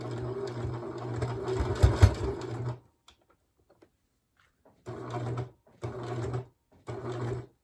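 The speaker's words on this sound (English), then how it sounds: "we're just going to sew it shut with this top stitch" A sewing machine top-stitches a three-layer fabric face mask: a long, steady run of rapid stitching, a pause, then three short bursts of stitching close by.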